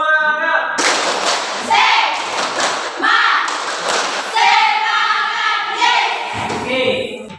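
A classroom of students does a rhythmic spirit clap. Loud, close clapping comes in patterned bursts mixed with children's chanting voices, and a teacher calls out over the start.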